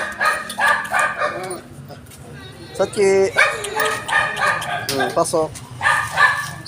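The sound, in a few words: dog barking outside the gate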